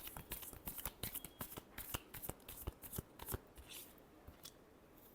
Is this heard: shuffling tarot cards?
yes